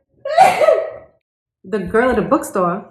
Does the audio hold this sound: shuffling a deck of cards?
no